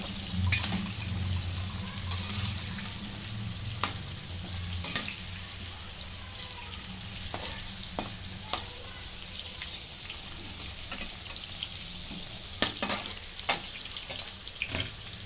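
Masala bitter gourd steams in a covered pan, giving a steady close sizzle broken by scattered sharp pops and crackles throughout.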